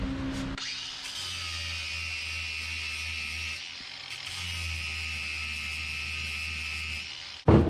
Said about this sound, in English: He's grinding on the top of this nut to get it to fit in there just the way he wants to.